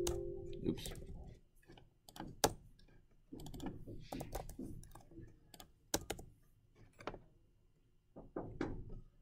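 Typing on a computer keyboard while writing code, with clusters of sharp close key clicks and taps in irregular bursts separated by short pauses, no speech.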